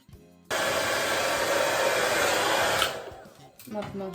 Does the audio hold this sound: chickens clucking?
no